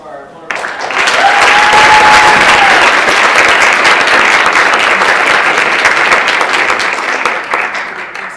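A student government meeting audience breaks into sustained applause that starts abruptly, swells to a loud, dense roar of clapping and holds steady for several seconds before easing slightly.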